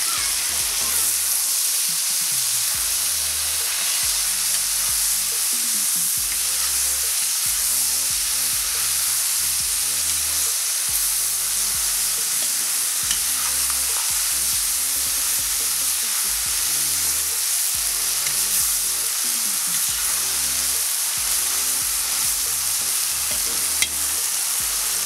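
Tomatoes fry and sizzle in a pan for Uzbek mastava soup, a steady loud hiss with repeated scraping stir strokes throughout, close and continuous with no talk.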